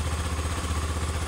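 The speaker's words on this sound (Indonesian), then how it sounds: "motor sudah hidup" A Honda Scoopy scooter with an ECU fault runs just after starting, its engine idling in a steady, close, low pulsing throb with no voices.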